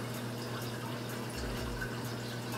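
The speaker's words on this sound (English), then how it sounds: "We're gonna shake that for 30 seconds." Liquid reef tank test solution shaken in a beaker, giving a steady wet sloshing and rattling that stays fairly loud and close for the whole stretch, with no talking.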